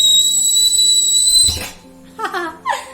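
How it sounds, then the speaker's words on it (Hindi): A pressure cooker on a gas stove gives a loud, steady high whistle for about a second and a half, then bursts into a rushing release of steam, followed by a few brief squeaky chirps. "सीटी की आवाज आ रही है ना आपको"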